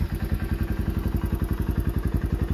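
A Suzuki King Quad ATV engine runs close by with a fast, even, thumping idle that pulses steadily throughout, no talking.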